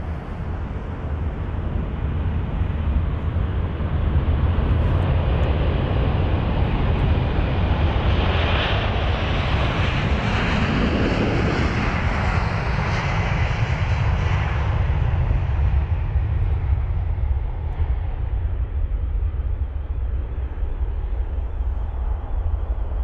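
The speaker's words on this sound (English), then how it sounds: "the 767 is on the move. The 400 ER off to Atlanta." A Delta Boeing 767-400ER bound for Atlanta rolls down the runway at London Heathrow on takeoff, its engines a loud, sustained roar that swells and shifts in pitch as it passes, with wind buffeting the microphone.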